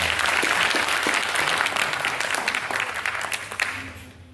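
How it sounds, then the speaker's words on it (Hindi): A crowd at a stage event honouring a folk artist's birth anniversary applauds the performers with dense, sustained clapping that starts loud and slowly thins and fades toward the end. "उन सभी लोगों के लिए एक बार जोरदार ताली हो जाए"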